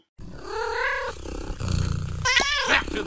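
Three kittens purring and mewing up close, a short rough purr with small high cries rising over it, loud and continuous for about three seconds with no talking.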